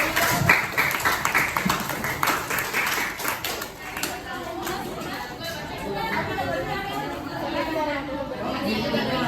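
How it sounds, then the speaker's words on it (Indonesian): Classroom applause with clapping mixed into loud chatter from students, close and busy, tapering into steady overlapping voices. "Kasih applause dulu dong buat kamu."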